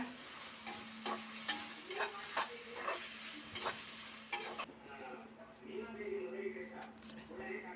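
Turmeric powder is sautéed in a pan for pepper rice: soft frying sizzle, a run of sharp spoon-on-pan taps and stirring scrapes, and a low steady hum, with a faint voice in the background.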